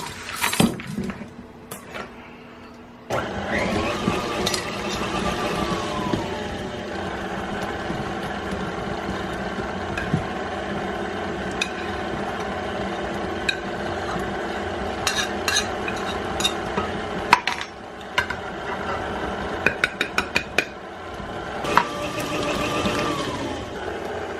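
Electric mixer blending dry ingredients into blueberry muffin batter in a home kitchen, a steady whirring drone that starts abruptly after a quiet moment and runs on with occasional clinks of the beaters against the bowl.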